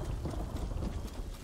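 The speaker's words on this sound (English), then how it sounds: "is it gonna thunder and lightning?" Video-game thunder rolls as a continuous, heavy low rumble with a windy, blustery wash over it, fairly loud and with no speech.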